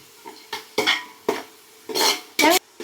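Onions sauté in a pan for chicken gravy while a utensil stirs them, about six distinct scraping and clattering strokes at uneven intervals, close and fairly loud.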